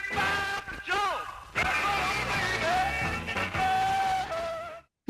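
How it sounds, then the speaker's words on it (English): A sound postcard record plays back a scratchy, wavering musical recording with sustained tones and a crackly, low-fidelity quality, continuous for several seconds before stopping abruptly. "This is a sound postcard."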